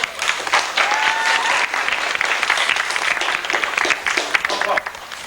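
Steady applause from a crowd, many hands clapping at once, loud and sustained throughout.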